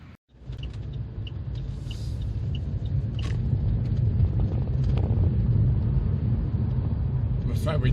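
A 2007 Saab 9-3 Cabriolet 1.8t with linear automatic gearbox drives along, its steady low engine and road rumble filling the cabin continuously after a brief quiet start.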